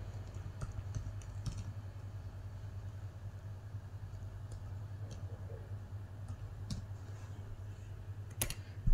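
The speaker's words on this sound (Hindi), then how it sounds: "जैसे मैंने यहाँ पे फ़ोन नंबर अपना टाइप किया है" Keys on a computer keyboard are tapped while a phone number is typed in, giving faint, scattered clicks over a steady background hum, with one sharper burst near the end.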